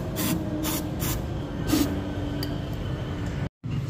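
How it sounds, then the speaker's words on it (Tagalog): Brake cleaner sprayed from an aerosol can onto the intake manifold of an Isuzu Crosswind turbo diesel during cleaning, several short hissing bursts close by, followed by a brief gap near the end. "i-spray na lang po natin ang ating brake cleaner"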